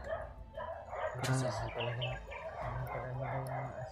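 Several dogs bark at a moderate distance outdoors in a repeated, uneven series, with faint bird chirps in the background.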